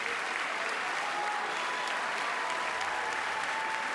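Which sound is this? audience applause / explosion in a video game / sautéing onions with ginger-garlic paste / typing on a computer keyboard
audience applause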